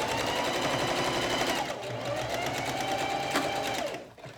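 A sewing machine stitches a makeup bag, a steady loud rapid mechanical chatter running continuously before it slows and stops near the end.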